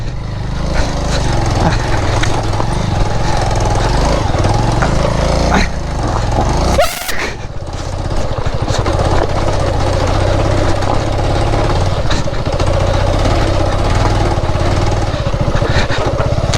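A Bajaj Avenger cruiser motorcycle engine runs loudly and steadily at close range with a low throbbing idle, briefly dipping before settling back into a continuous rumble.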